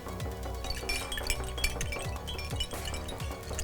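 Continuous bright metallic jingling and clinking of an Udmurt coin necklace (manisty), like many small coins shaken together, busy and close with no pauses.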